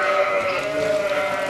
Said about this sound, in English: His Friesland sheep are off for milking.